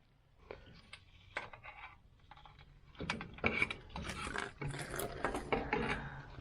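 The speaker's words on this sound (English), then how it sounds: "here I am with this wrench just inching that thing off there" A wrench inches a part loose on an old Ford Dentside pickup, producing scraping, clicking metal-on-metal turns in short uneven bursts that grow busier and louder toward the end.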